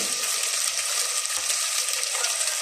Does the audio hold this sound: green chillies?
yes